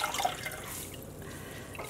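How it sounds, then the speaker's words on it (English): Sugary water dripping and trickling from a squeezed yarn cake into a dyepot, a close wet patter of drips and small splashes over a soft steady background. "I am squeezing out a lot of this sugary water"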